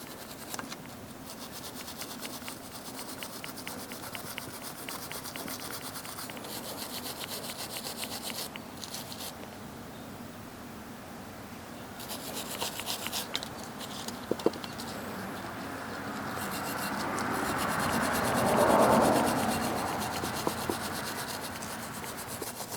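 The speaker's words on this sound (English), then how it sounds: "I'll just have to use a wire brush." Steady wire-brush scrubbing of rust from the rear brake parts on a 2011-2017 Honda Odyssey with an internal parking brake, continuous rasping strokes close by that grow louder toward the end, with no voices.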